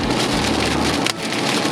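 Dense, loud rattle of hail pelting a vehicle during a Nebraska storm chase, a constant drumming roar with one sharper clatter near the end.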